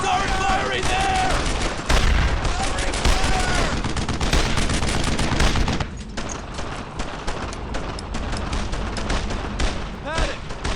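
Dense, continuous WWII gunfire from Brothers in Arms: Earned in Blood, with rifle and machine-gun bursts and heavy booms crowding the mix for most of the stretch while shouted voices cut through.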